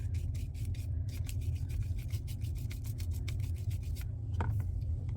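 A brush buffs shimmer powder across stamped paper in rapid, quiet rubbing strokes. The scratchy rhythm stays steady over a low background hum.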